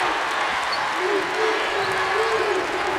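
Basketball crowd at a women's NCAA tournament game between Connecticut and NC State, standing and cheering in a sustained roar of voices and applause, with a commentator talking over it.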